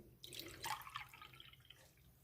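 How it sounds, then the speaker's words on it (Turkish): Water poured over sugar in a pot to make syrup for a sponge-cake dessert soaked in syrup, a brief trickling splash that runs a second or two and then fades, heard alone and fairly quiet. "Bir su bardağı, bir buçuk su bardağı da su ekliyorum üzerine."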